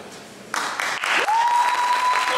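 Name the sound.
audience applause for graduating class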